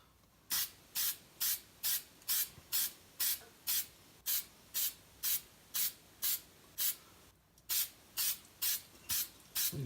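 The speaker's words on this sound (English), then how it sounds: "Put some spray glue on these trees." Super 77 spray glue sprayed onto model trees in short, even hissing bursts, about fifteen in a steady rhythm with one brief pause, close and alone.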